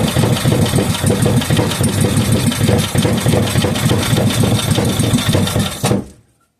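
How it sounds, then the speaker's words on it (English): A 5 hp Briggs and Stratton small engine idles with its idle set slightly too low, giving a loud, steady, rapid chugging close by that runs without a break and then cuts off abruptly near the end. "Well, that is one good running little engine."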